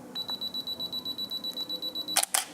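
A camera held at half-press gives a long, steady train of soft regular beeps, then the shutter fires with two quick, crisp clicks close to the microphone.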